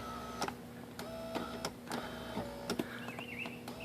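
A faulty power seat motor in a Jaguar X-Type whirs in steady short bursts with clicks, close and fairly quiet, with no talk over it.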